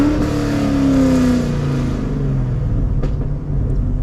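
A Camaro SS revs hard as its wheels spin on a wet road in the rain, the engine note rising then sliding down in a loud, close droning roar with tire hiss and splashing underneath.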